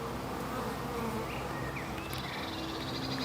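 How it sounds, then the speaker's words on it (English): Honeybees fly around a hive, a dense, continuous buzzing swarm close by and all around, fairly quiet and steady with no voices. "The bees that were going into the hive were going in that corner specifically."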